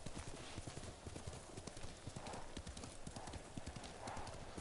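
A horse gallops in the Ghost of Tsushima video game, its hooves clip-clopping in a fast, steady rhythm close up and loud throughout, with faint game ambience and no talk over it.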